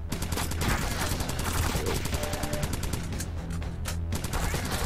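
Rapid submachine gun fire in the top-down shooter Crimsonland, a fast, continuous stream of sharp shots lasting the whole stretch, loud and close with game effects underneath.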